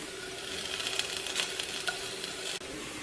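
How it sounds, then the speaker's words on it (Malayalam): Curry leaves sizzle in hot oil in a pan for egg biryani, a steady close crackle with soft stirring scrapes that cuts off abruptly near the end. "കുറച്ച് കറിവേപ്പില ഇട്ട് കൊടുക്കാം."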